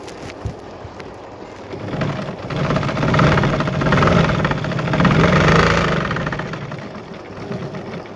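Sewing machine stitching a blouse, a rhythmic mechanical whirring that swells and fades as the motor speeds up and slows, close and fairly loud without talk.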